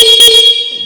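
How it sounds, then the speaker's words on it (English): Horn of an Aprilia RS 457 motorcycle: one loud, close, bright honk with a steady high tone lasting under a second. "Then the horn sounds like this."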